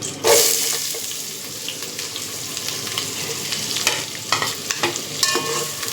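Chopped onions and green chilies are tossed into hot oil with whole garam masala for prawn biryani, giving a steady close sizzle with scraping stirs and small clinks throughout.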